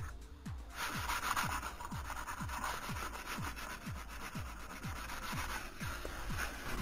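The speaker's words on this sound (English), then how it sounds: "I'm using different sanding, sandpaper and sanding blocks" Sandpaper and sanding blocks rubbing over a 3D printed PLA helmet in steady, rhythmic back-and-forth strokes, close and fairly quiet, with no voices.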